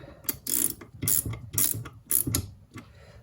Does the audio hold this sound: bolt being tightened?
yes